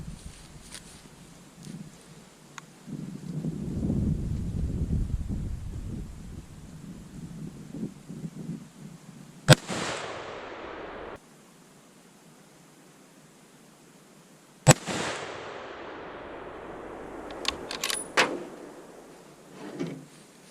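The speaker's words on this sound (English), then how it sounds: "we're shooting off of the Jeep" Savage Axis 25-06 rifle fired from the hood of a Jeep at a 120-yard target in West Virginia, two sharp single shots a few seconds apart, each followed by a brief rolling decay over low outdoor rumble and wind.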